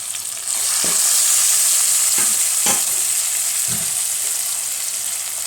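Tomato and curry leaves sauté with salt in a hot pan, giving a steady loud sizzle with a few scraping stirs of a spoon against the metal, close up and with no talking.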